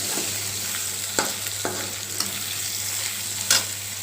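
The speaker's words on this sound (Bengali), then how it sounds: "আমি সয়াবিনগুলো লাল লাল করে ভেজে নেব" Soybean chunks fry in a pan, a constant hiss with a low hum under it, punctuated by several sharp clicks and scrapes of stirring.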